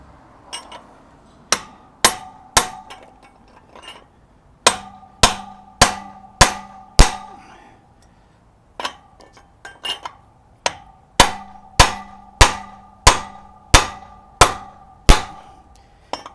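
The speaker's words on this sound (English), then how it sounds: "we beat this on with this lead hammer just like this" A heavy lead hammer strikes metal again and again, each blow sharp and ringing, falling in two quick runs separated by short pauses.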